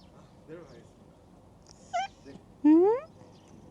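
A cat meows several times outdoors near an open-air shower, a short faint mew followed by two louder, rising meows, with the last one the longest and nearest.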